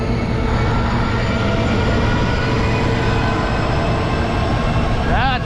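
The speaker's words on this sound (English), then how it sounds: "Oh, there's a Norfolk Southern engine there." A Norfolk Southern diesel locomotive rumbles past up close with a loud, steady engine roar and rail noise for the whole stretch, and a brief rising whine near the end.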